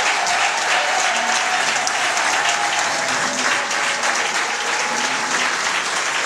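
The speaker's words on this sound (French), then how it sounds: "J'invite donc toute l'assistance à saluer sa présence par des acclamations et des cris." A large crowd at a provincial political gathering applauds and cheers loudly, a dense, continuous roar of clapping and shouts filling the whole stretch.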